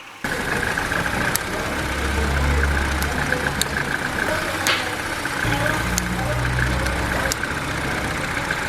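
A Peugeot 308 with a 1.6 engine cranks briefly and catches, then settles into a steady, close idle with a low rumble and faint ticking clicks throughout.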